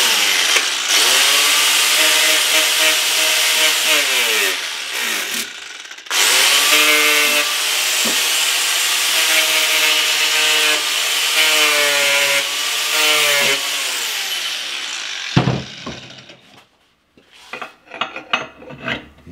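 Long, rasping scraping strokes, like a brush or file scrubbing metal parts of a Toro eFlex reel mower, run steadily for several seconds before breaking off into scattered clanks.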